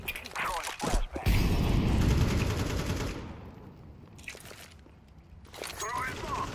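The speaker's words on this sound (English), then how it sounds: "I'm throwing a grenade." A Counter-Strike 2 match brings a burst of rapid gunfire and a loud blast-like surge that fades into rumbling, then more shots, all heard under a player's voice.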